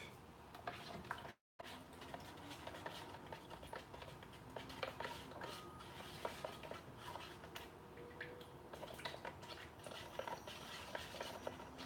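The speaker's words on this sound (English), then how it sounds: "So I've got my paint. I've got my hardener. I'll mix that up real quick." Paint stirred by hand in a cup, automotive paint mixed with hardener, a steady run of soft scraping and tapping strokes close by with a brief break near the start, no voices.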